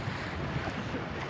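Sea waves and wind on a beach in Karachi, a steady broadband wash of surf with gusty wind noise buffeting the microphone and no clear voices.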